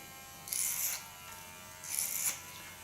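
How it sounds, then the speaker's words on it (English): An electric hair clipper with ceramic blades cuts an undercut in two short buzzing bursts, separated by a quiet gap, close and fairly faint. "make this cut with a clipper"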